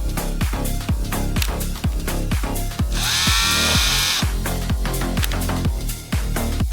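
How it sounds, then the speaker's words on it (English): Cartoon chainsaws rev in a battle between pianosaurus creatures, a loud mechanical buzz that swells for about a second above a pounding, rhythmic musical beat that runs throughout. "those chainsaws send a message"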